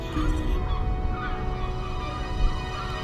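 A flock of black-headed gulls calls continuously, with harsh, overlapping cries that stay fairly loud and dense throughout, with no gaps of silence.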